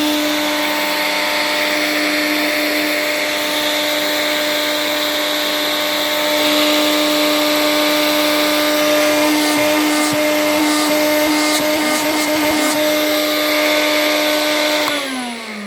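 A Vax 121 or Electrolux 612 vacuum cleaner, a heavily used machine full of plaster, runs with a loud steady motor whine and strong harmonic hum, then abruptly drops off near the end as it switches off.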